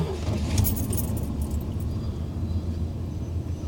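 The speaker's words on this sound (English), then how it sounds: "Oh, keys would be nice." Keys jangle and clink against a steady low rumble of a truck cab, fairly close and continuous, with no voices over it.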